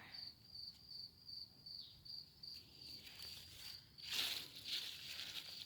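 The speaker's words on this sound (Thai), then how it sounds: "เสียงจิ้งหรีดร้องดังมากตอนนี้" Crickets chirp loudly and steadily outdoors in rainy-season weeds, a continuous high pulsing trill that runs throughout, with faint rustling near the end.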